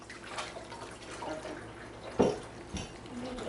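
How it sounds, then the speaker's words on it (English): Running tap water splashes as a cutting board is washed during home fruit cocktail canning, a faint continuous trickle with a brief louder splash near the end, heard alone without talk. "I think she's washing a cutting board."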